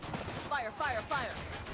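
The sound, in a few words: gunfire in the video game Ghost Recon Wildlands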